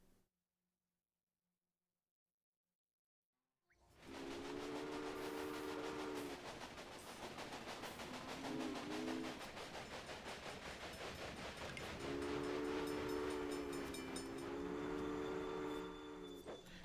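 Train rolling along in a video game, a continuous mechanical rumble and rattle that starts suddenly after a short silence and runs steadily, with a sustained tonal hum rising and falling over it.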